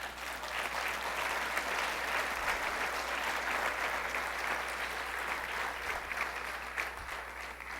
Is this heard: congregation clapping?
yes